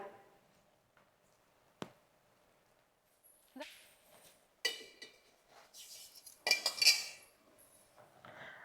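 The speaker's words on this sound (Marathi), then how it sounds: "चमच्यान पुन्हा एकदा चांगलं असं मिक्स करून घेऊया" A spoon scraping and clinking against a bowl in scattered bursts as chickpeas with chopped coriander are mixed, with short quiet gaps between strokes.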